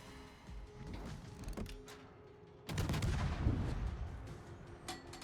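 Rapid-firing naval guns from an American light cruiser in the World of Warships naval battle game: repeated booming salvos and dense gunfire, loud and close, swelling into a heavier barrage in the second half.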